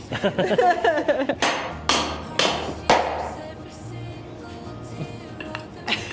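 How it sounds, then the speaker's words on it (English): Hammer striking during mudroom work at a small back door, a few sharp ringing blows at close range, with people talking around them. "want to try and hammer it in? With a hammer?"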